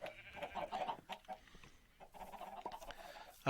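Chickens cluck in the Minecraft video game, a scatter of short, uneven bird calls at moderate level with brief quieter gaps and a sharper call at the very end.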